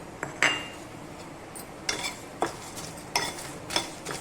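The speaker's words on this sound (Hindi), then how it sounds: "इस तरह से इसे भून लेंगे" Spices are stirred and roasted in a pan over medium-low flame for Pindi chhole, with a faint sizzle and a few sharp spoon clinks and scrapes against the metal, close by and with no speech.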